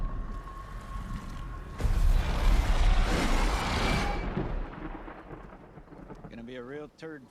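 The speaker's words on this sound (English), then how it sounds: "With the thunder hit in the background." Thunder rumbles through a TV show scene: a low steady roar swells into a loud, broad crash that rolls on for a few seconds and then fades, with a voice briefly heard at the end.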